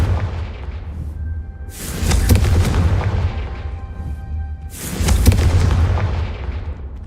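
Two heavy, booming spell explosions from the Confringo curse in Hogwarts Legacy, spaced about three seconds apart, each a loud blast with a long rumbling decay over a low background hum.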